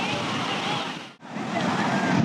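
Sea waves wash and splash against the shore at Walkeshwar in a close, steady roar that dips briefly midway and then swells again.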